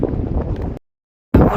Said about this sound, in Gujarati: ઠંડો પવન છે એકદમ